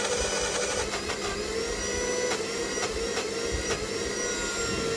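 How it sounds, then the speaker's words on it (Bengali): An electric blender grinds ginger in its jar with a loud, continuous motor whine that holds steady for five seconds, with no one speaking. "এবং ব্লেন্ডারে ব্লেন্ড করে নিচ্ছি"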